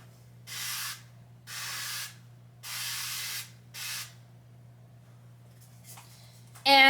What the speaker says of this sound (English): we're greasing it with all-purpose baking spray